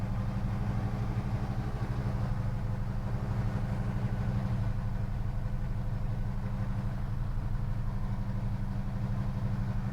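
A 1977 Chevy C20 truck engine with dual exhaust runs close by at a steady, rumbling idle for the whole stretch, a deep and even drone with no talking.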